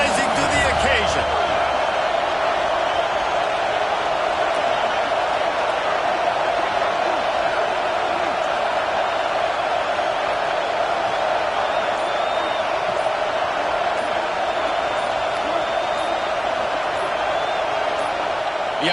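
A college football stadium crowd roars steadily as Miami's offense faces a fourth down, a loud continuous wall of voices that holds at the same level throughout with no single voice standing out.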